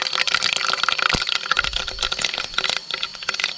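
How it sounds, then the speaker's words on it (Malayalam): Mustard seeds splutter in hot oil while tempering sambar in a forest-camp night kitchen, giving rapid irregular crackling pops close by, sharp and busy throughout, without speech. "കടുക് പൊട്ടി"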